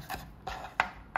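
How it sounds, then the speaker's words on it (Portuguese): A knife chops smoked meat into small cubes on a board for a schnitzel dish, with four distinct close knocks in a loose, uneven rhythm and no talking. "Agora também cortamos em cubinhos mais ou menos como a cebola"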